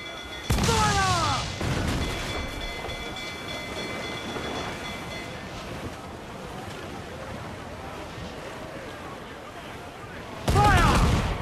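Ship cannons fire a broadside at a schooner at sea in Assassin's Creed IV, with heavy booming blasts at the start and end over a long rumbling, wave-washed roar.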